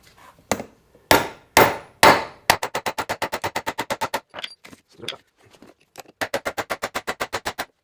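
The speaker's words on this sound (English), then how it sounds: "So now we need to drive this stub axle out of the housing, and there's a little hole in the end of this for a punch." A hammer drives a punch to knock the stub axle out of a Volkswagen T3 Vanagon rear wheel bearing housing: three heavy blows, then fast, even runs of metallic strikes with a short pause between bursts, close and loud.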